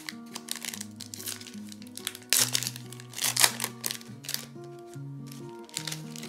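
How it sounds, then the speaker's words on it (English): A football trading card pack is torn open up close, producing quick crinkling and ripping foil bursts in short irregular strokes, with a faint musical tone underneath. "So let's rip into this last pack here."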